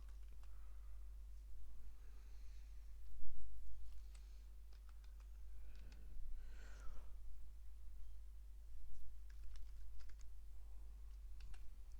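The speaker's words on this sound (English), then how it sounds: "So I'll put the password in." Someone types a password on a computer keyboard during a Linux install: a quiet, irregular run of light key clicks and taps over a steady low hum, with no voices.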